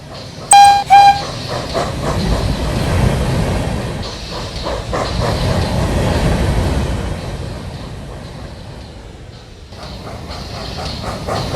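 A train rumbles along steadily with rhythmic clacking and hissing, after a brief whistle toot near the start; it fades slightly toward the end.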